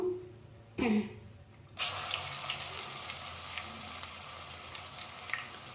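Oil sizzles and crackles steadily in a pan after a brief clatter as ginger garlic paste fries, a continuous hissing fry with occasional pops, no voices present.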